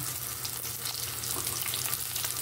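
Chopped onion sizzles in a hot pan for chicken tinola, a steady dense crackling hiss that fills the whole moment without any talk.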